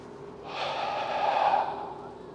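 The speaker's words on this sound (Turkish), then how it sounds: "Şimdi nefesimizi tam tek seferde iyi bir şekilde boşaltıyoruz." A bodybuilder forcefully empties his lungs while moving into a pose, a single sustained breathy exhale lasting about a second, close and fairly loud, with no talking over it.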